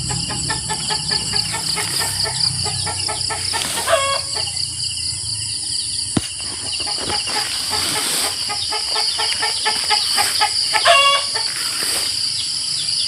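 Chickens clucking and a rooster crowing on a rural farm during feeding, several short bursts of crowing and busy clucking close by over outdoor background noise.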